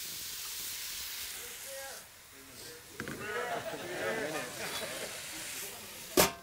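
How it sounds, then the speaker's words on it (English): Steam hisses from a hot pan of browning food in a television studio kitchen, a broad airy rush that swells midway, with someone talking over it and a sharp clatter near the end. "Look, we'll add a little steam to these guys."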